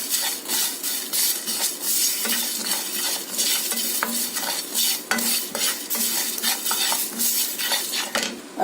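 Spices for chaas (buttermilk) masala dry-roasting in a hot pan with the flame switched off, stirred with a spoon: steady, close scraping and rattling strokes in a quick irregular rhythm, with no voices.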